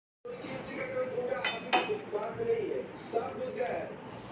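Cutlery and dishes clink during a home lunch of rice and vegetable curry, with light scraping and a couple of sharper metallic clinks close by, under steady conversation.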